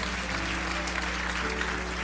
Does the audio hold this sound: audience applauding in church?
yes